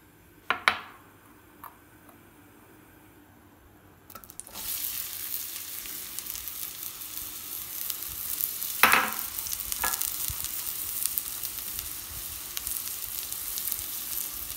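Chopped onions drop into hot oil with a sharp clatter, then a steady loud sizzle of frying onions runs on, with a few utensil knocks and a stirring scrape partway through.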